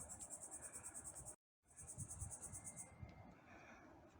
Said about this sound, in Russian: Слышно, как цикада